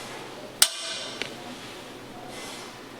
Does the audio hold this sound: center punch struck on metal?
yes